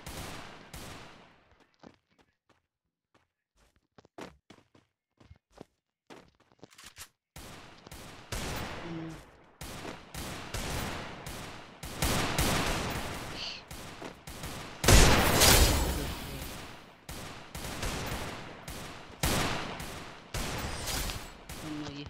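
Video game gunfire: rapid bursts of shots, sparse and faint at first, then dense and loud volleys of repeated firing filling the rest of the stretch.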